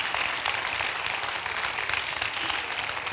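A church congregation claps for Jesus during a sermon, a dense, steady roomful of applause sustained throughout, without speech over it.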